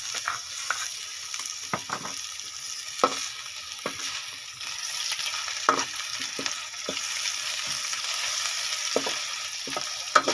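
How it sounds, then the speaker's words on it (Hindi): Garlic ginger paste frying with lightly browned onions in a pan for chicken potta, a steady close sizzle with soft stirring scrapes and clinks recurring throughout. "प्याज का हल्का ब्राउन कलर आ चुका है तो इसमें लहसुन अदरक का पेस्ट डालेंगे"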